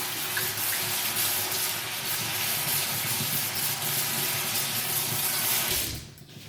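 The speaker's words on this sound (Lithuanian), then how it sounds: "iškart plaunu peilį po šaltu vandeniu" A kitchen knife is rinsed under a cold running tap, a steady close splashing stream that runs for several seconds and then cuts off abruptly as the water is turned off.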